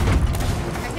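Ship cannons firing in a pirate naval video game, a dense rumbling burst of booming shots filling the moment, loud and close, with voices over it.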